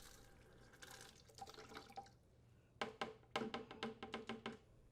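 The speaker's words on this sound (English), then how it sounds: "rotate the T-handle on the shutoff valve counterclockwise to fully open and flush out the copper tubing" Water gushes through copper tubing from a T-handle shutoff valve opened during a top-mount refrigerator installation, first a steady splashing rush, then a string of loud, close, sputtering spurts.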